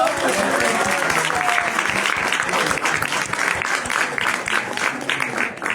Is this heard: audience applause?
yes